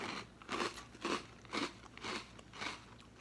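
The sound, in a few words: biting Cinnamon Toast Crunch Churros cereal with milk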